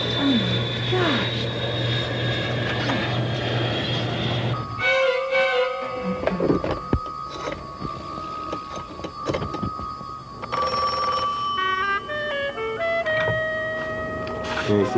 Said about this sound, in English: that plane is going down